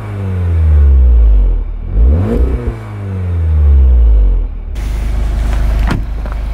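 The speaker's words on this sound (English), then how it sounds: "It's gonna get some exhaust note." A new VW Golf revs nearby, its engine climbing and falling through two strong surges before a rougher, steadier exhaust drone takes over toward the end.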